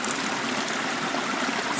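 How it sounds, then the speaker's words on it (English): Water gushing from a pipe into a creek, a loud, continuous rushing and splashing close by, with no talking over it. "I got quite a bit of water coming out here"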